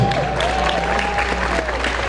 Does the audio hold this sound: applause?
yes